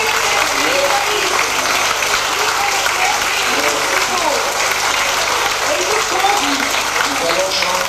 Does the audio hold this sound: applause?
yes